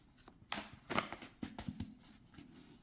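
Tarot cards are shuffled in a few quick riffling bursts, close and crisp, with short pauses between them and no talking.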